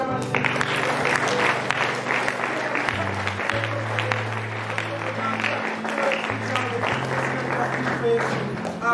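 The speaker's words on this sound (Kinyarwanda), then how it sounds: "turangije tugukomera amashyi" A church congregation claps continuously, the applause spread through the hall and layered over sustained keyboard-like music with shifting bass notes.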